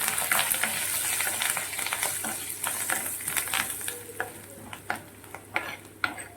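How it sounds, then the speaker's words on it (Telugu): Mustard seeds, black gram lentils, chana dal, peanuts and cashew pieces frying in oil over a very low flame for jackfruit pulihora, a steady close sizzle with scattered pops and crackles, no voices. "ఇందులో ఆవాలు, మినపప్పు, పచ్చెనపప్పు, వేరుశెనగ గుళ్ళు, జీడిపప్పు పలుకులు వేసుకొని బాగా సన్నని మంట మీదే దోరగా వేపుకుందాము"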